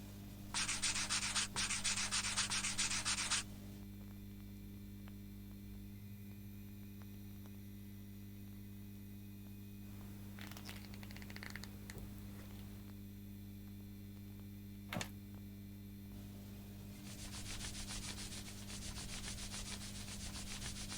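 An amber craftsman polishes a piece of amber by hand on a strip of woollen cloth wound around a matchbox, using toothpaste as polish. Quiet rhythmic rubbing comes in short bursts over a steady low electrical hum.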